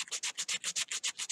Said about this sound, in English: we're just sanding the dickens out of this